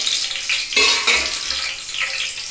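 Raisins fry in oil in a pan while pulao is being made, giving a steady close sizzle with a few light stirring scrapes and no talking.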